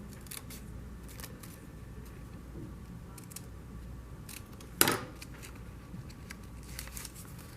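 Scissors cut out a paper lantern template in soft, quiet snips and rustles, with one sharper, louder crunch partway through; no one speaks.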